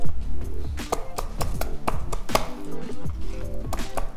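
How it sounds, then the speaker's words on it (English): Green onions smashed on a cutting board while preparing Indonesian bakso meatballs, a run of about a dozen loud, close, irregular thuds and knocks with some clatter, and no talking. "To add more flavor for the green onion, I like to smash them a little bit."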